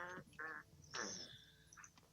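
Person imitating a duck with a few nasal quacking calls in short bursts, close and fairly quiet, with no other talk.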